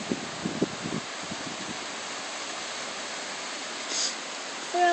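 A huge waterfall roaring as a dense, even broadband hiss from the top of the falls, steady throughout with a few brief faint voices and noises near the start and end.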